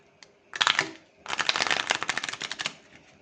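A deck of tarot cards is riffled and shuffled in two bursts, a short crisp flutter and then a longer run of rapid clicking card snaps, close and loud with no talking.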